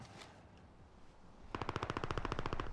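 Rapid automatic gunfire in a video game bursts in midway after a quiet, low ambient stretch, a loud, evenly spaced string of shots rattling on to the end.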